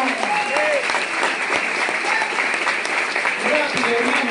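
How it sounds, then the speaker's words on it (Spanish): Congregation at a church service in Mexico City applauding steadily, dense clapping filling the whole stretch, with a voice carrying over it. "¡Alguien aplaude, hermano!"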